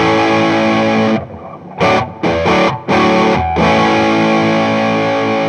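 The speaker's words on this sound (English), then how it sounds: "It's just literally the clean sound with the distortion on top of it." Heavily distorted electric guitar chords through a JHS Bonsai pedal ring out loud and fuzzy, with a few brief choppy breaks before sustaining again.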